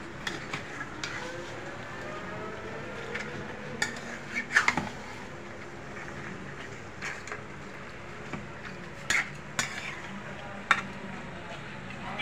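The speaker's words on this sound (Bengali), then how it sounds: "এখন আমি ভালো করে নেড়ে ছেড়ে" Goat head meat curry stirred in a pan, with soft scraping and occasional sharp clinks of a utensil against the metal, moderately near and steady over quiet kitchen background.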